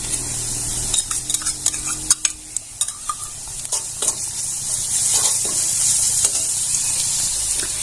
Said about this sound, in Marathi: कांदा घालून घ्यायचा आलं लसूण पेस्ट घालून घेऊया